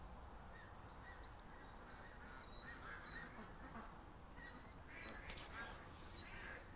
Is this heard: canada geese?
yes